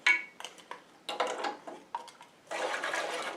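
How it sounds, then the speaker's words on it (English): Cashews are poured into hot candy syrup in a pot and stirred, giving a series of short, scraping, rattling bursts that build into steadier stirring noise near the end. "We are adding our cup of cashews,"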